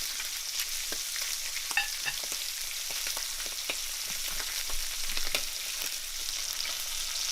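Salmon skin fries in a pan on medium heat, a steady close hiss of sizzling fat with small pops and crackles throughout, no voices.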